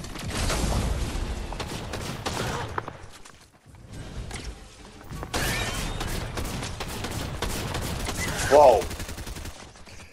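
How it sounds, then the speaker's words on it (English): A drum shotgun fires in Fortnite during a solo battle: rapid booming blasts pile up into a loud, continuous barrage with a brief lull in the middle. A player gives a short startled exclamation. "they're using that drum shotgun"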